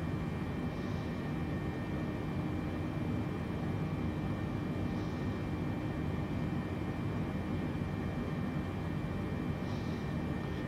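The jet engines of a Boeing 747-8 in Microsoft Flight Simulator roar steadily and loudly at takeoff power, a continuous even rumble with no talk over it.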